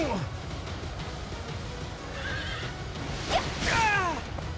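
A horse in the video game Fire Emblem Three Houses gives two distinct neighs, a short whinny and then a longer falling one, over constant low background noise.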